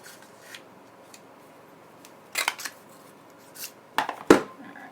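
Scissors make a few quiet, sharp snips through ribbon for a handmade card, short separate cuts over near-silence.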